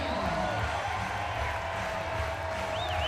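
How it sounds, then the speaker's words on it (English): Crowd at an NCAA regional softball game, Fordham against Arkansas, cheering after a home run, a broad, steady roar with scattered whoops that stays at one level throughout. "Gets the crowd on their feet"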